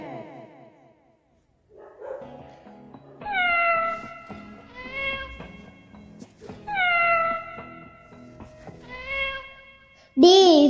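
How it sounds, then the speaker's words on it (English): A cat meows several times in drawn-out, clear calls separated by short pauses, ending with a louder, higher cry up close. "C for cat."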